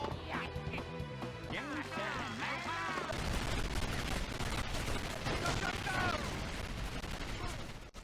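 Gunfire in the GameCube video game Medal of Honor European Assault played on a handheld, bursts of rapid shots and explosions over game music and voice effects, dense and fairly loud.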